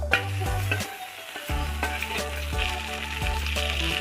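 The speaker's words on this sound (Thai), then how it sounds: "ตั้งกระทะใส่น้ำมัน นะครับ น้ำมันเริ่มร้อนแบบนี้แล้ว ก็กระเทียมสับ" Minced garlic fries in hot oil in a wok, giving a steady close sizzle with bursts of clatter as it is stirred, over a low continuous hum.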